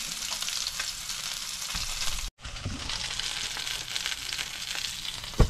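Salmon sears skin-side down in a hot frying pan, a steady loud sizzle broken by one brief gap, with a few soft clicks, and no voices.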